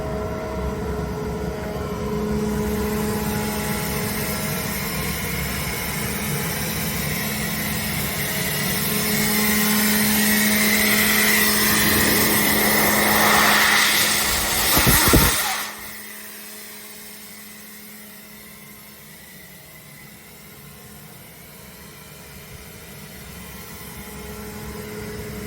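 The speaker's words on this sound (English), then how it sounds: "And let's load the compressor." A Kaeser inverter-drive screw compressor with a steady broadband machine hum that swells as it comes under load, peaking around the middle before a sharp transient, then settling back to a quieter, steady running sound.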